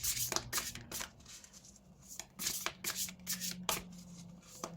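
Oracle cards being shuffled by hand, a series of crisp riffling bursts in uneven rhythm, close and clear with quiet pauses between, no talking.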